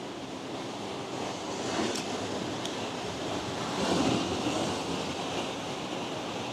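Ocean waves roll and wash on the Madeira north coast, with a steady broadband roar and gentle swells in intensity, mixed with wind buffeting the microphone and no voices.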